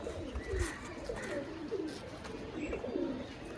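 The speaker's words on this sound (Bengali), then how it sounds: "একটি কাগজি জোড়া সুলেমান কাগজি জোড়া একদম ছোট্ট ঠোঁটের পায়রা" Short-beaked Suleman Kagji pigeons coo repeatedly in low, rolling calls among a larger flock kept for sale, the soft throaty coos overlapping steadily against a constant background hum.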